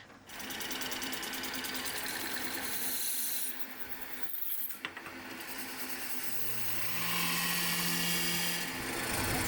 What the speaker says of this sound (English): I performed further processing on a lathe.